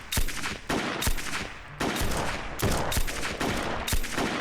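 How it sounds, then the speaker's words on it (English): Automated turret firing in the survival game SurrounDead: loud, close bursts of rapid gunfire in a repeating rhythm of short volleys with brief gaps, no talking. "Oh, there's a turret there."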